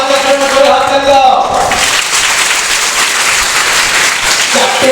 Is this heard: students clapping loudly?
yes